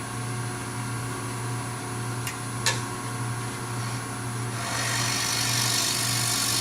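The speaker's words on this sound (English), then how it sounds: "Okay, so I take a bowl gouge. Any bowl gouge will do." A wooden Beads of Courage box spins on a lathe while a bowl gouge takes a light truing pass, a steady low motor hum with a faint cutting hiss that swells toward the end, plus a couple of brief sharp ticks.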